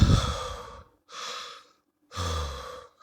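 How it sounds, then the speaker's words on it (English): Three slow, deep breaths come one after another, each a loud, close, drawn-out inhale or exhale separated by short silences, with no talking. "Deku starts to breathe."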